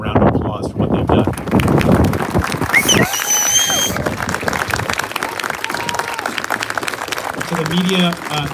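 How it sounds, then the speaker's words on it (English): An audience breaking into a round of applause at the end of a press conference, a dense sustained crackle of many clapping hands with voices talking over it. "I hope you'll end by giving them a round of applause for what they've done"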